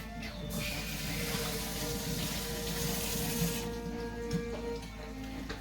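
Tap water runs steadily into a kitchen sink while something is rinsed under it, a continuous broad hiss lasting the whole moment with a few faint clinks, no voices.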